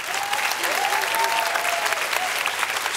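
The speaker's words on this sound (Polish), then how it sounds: "duże brawa" Loud audience applause in a televised variety show studio for a bandleader and his orchestra, a thick sustained wash of clapping with a faint musical tone or cheer gliding through it early on.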